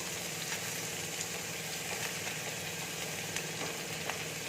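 Chopped onion hitting hot oil in a pan while an Afghani omelette is cooked, giving a steady, loud, broadband sizzling hiss with small crackles throughout and no talking.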